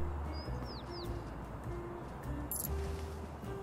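Birds chirping in the video game Little Kitty, Big City: a few short, bright upward chirps early on, fairly faint over a steady low ambient hum.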